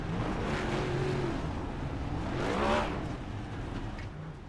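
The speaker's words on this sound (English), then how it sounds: "Garrett Maines doing a whole front stretch burnout there" Race car doing a burnout down the front stretch, heard as a continuous loud engine roar with rising and falling revs that swells near the middle and then eases, with no talking.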